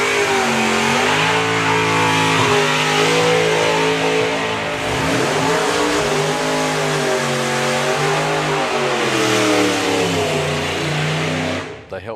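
Supercharged outlaw drag racing car engine revving loudly and continuously at a drag strip, the pitch rising and falling as it comes around a corner, with a commentator talking over it.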